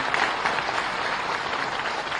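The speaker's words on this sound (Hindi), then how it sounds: "मुख्यमंत्री आदरणीय श्री विष्णुदेव साय जी, उनके लिए एक बार जोरदार ताली के साथ में अभिनंदन करें।" Loud, steady applause from a large audience for the chief minister of Chhattisgarh at a seminar on tribal society, sustained dense clapping with no talk.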